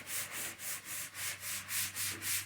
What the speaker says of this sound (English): we are working on block sanding these fenders out.